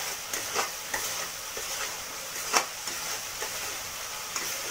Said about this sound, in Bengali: ভালো করে মশলাটাকে কষে নিতে হবে।